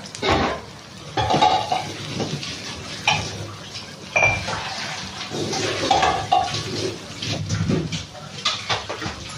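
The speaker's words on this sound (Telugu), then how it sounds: "ఇది నీట్గా మిక్స్ చేసుకుందాము" A spoon stirs egg and drumstick curry in a pan, with continuous scraping, clinking and wet mixing, fairly close and without talking.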